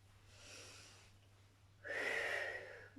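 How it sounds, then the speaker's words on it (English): Two heavy breaths from an older adult during low-intensity whole-body exercise, a softer exhale followed by a louder, rasping one, close and alone without talk. "There is nothing wrong to hear your breathing."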